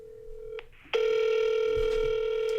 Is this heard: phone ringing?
yes